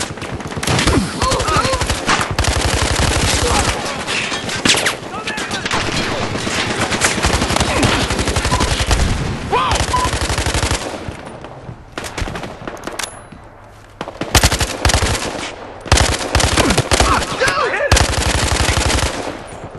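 Loud, close automatic gunfire in the video game Battlefield: Hardline, with long rapid bursts and a few brief pauses, running almost continuously throughout.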